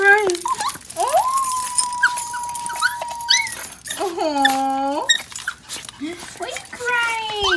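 Puppies whimpering and crying at home, with high, sliding whines and squeaky yelps repeating close up, while a voice talks softly among them.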